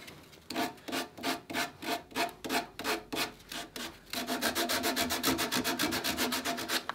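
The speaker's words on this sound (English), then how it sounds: "Just a little cleanup with some sandpaper and it's done." Sandpaper rubs back and forth over the frames of a wooden dory under construction, a close, rhythmic scratching that starts in slower strokes and then quickens into rapid, even passes.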